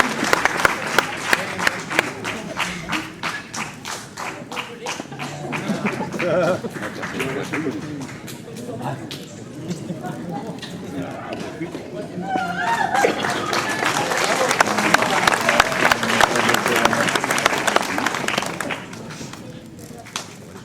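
Audience at a mayor's New Year ceremony at the Ouistreham Riva-Bella town hall, clapping in a sharp rhythmic unison beat that loosens into a dense, swelling round of applause from a large room, with some voices mixed in.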